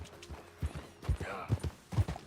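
Horse hooves clip-clopping in Red Dead Redemption, a steady run of soft, fairly close hoofbeats at a walking rhythm with faint background game sound.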